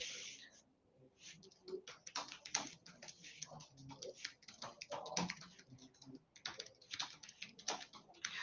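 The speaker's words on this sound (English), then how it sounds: "So you can type in any kind of query you have." Rapid, close computer keyboard typing as a query is entered into an AI inventory tool, irregular bursts of crisp key clicks with short pauses, fairly quiet.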